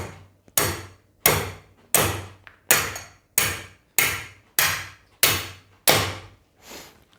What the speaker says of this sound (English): I will take my hammer and I will start hitting.